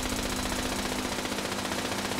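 Rapid continuous automatic gunfire crackles without pause in the game Fallout 76, dense and steady throughout the short stretch.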